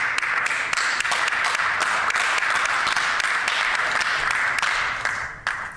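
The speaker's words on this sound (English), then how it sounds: "I would like to thank my colleagues on this side of the House, Deputy Speaker, for that rapturous applause" Sustained applause from members of the House of Commons, a dense, steady wash of many hands clapping in a chamber, holding level for several seconds before tapering slightly at the end.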